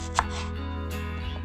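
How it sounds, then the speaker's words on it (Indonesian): A knife cuts through an onion on a board, making one sharp chop near the start and a softer tap later, over a steady low hum. "Nah, kalau untuk bawang bombaynya, kita belah dulu."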